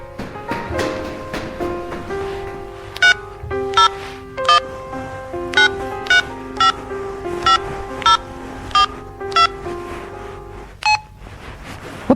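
A mobile phone searching for a signal gives a regular series of short electronic beeps, about one per second, over a soft tonal background with no talk.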